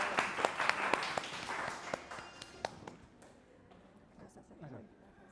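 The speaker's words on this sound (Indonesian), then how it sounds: "langsung aja kita panggil dengan tepuk tangan yang sangat amat meriah" An audience claps to welcome a speaker at an online campus event for a master's management program. The scattered, fairly close claps are strongest at first, then thin out and fade, with voices over them.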